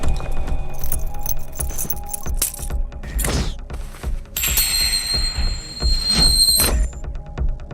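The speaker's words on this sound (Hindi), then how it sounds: "गाड़ी की चाबी।" Car keys jangle in bright metallic jingles and clinks, joined by a shrill squeal and some mechanical clatter. The sounds are close and fairly loud, in several separate bursts.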